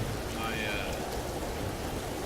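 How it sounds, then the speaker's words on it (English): Rain falls in a video game as a steady, even hiss of broadband noise, moderately loud and continuous throughout. "Why is it raining again?"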